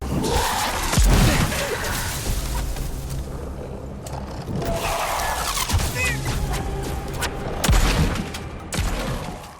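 Gunfire and heavy explosions in the survival horror game Daymare: 1994 Sandcastle, with deep booming blasts at irregular moments over a rumbling bed of rapid shots and crashes, loud and bass-heavy throughout.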